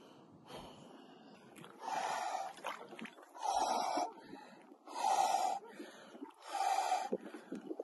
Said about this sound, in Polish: Oddychanie buzią.